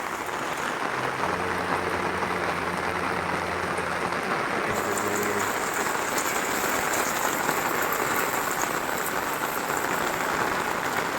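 Heavy rain pours steadily in Nellore, a dense, unbroken hiss of water on surfaces close by, with a low hum in the first half and no talking.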